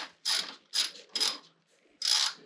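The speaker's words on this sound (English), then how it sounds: "Give me the ratchet." A hand ratchet loosening an oil drain bolt under a car, four quick bursts of clicking in uneven rhythm with short gaps, close and fairly crisp, no talking.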